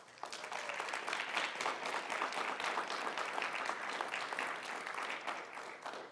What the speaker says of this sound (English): I would just ask that you would give a round of applause to our staff